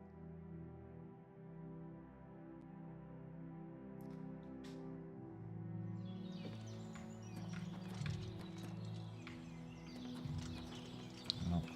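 Horse hooves clip-clop steadily at a walking pace in The Elder Scrolls IV: Oblivion Remastered video game, fairly faint beneath sustained background music.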